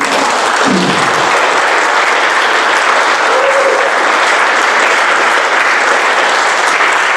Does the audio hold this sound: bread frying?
no